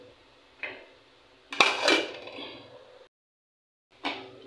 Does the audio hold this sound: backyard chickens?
no